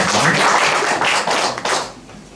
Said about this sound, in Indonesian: Beri tepuk tangan untuk Tuhan Yesus.